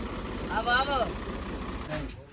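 A tractor engine idles with a low, steady rumble near a rural haveli, while people talk loudly over it for most of the short stretch.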